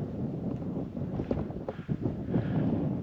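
Wind gusts across a fell summit at Grey Crag, a soft, rushing buffet against the microphone that swells and eases over a few seconds, with no talking.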